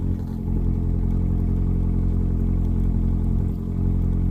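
An Evinrude E-TEC outboard engine runs at high idle during winterizing, a steady, fairly loud mechanical drone that holds even throughout, with a brief dip near the start and another later on.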